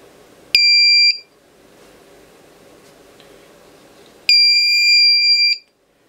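A portable motion detector alarm buzzer sounds two loud, steady electronic beeps, each lasting about a second, separated by a few seconds of quiet room hiss.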